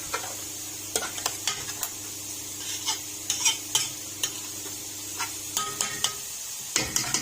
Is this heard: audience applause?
no